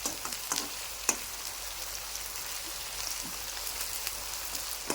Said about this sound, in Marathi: कांदा पूर्ण चांगला तळायचा आहे